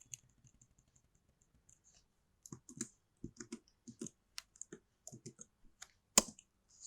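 Python code is typed on a computer keyboard in short bursts of close, crisp key clicks, with irregular pauses between the runs and a sharp louder tap near the end.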